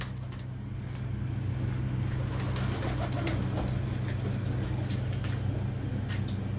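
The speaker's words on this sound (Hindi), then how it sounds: "ये टैडी कबूतरी है" A Teddy breed pigeon hen coos in low, steady tones against a constant background rumble of passing traffic, with faint clicks and rustles throughout.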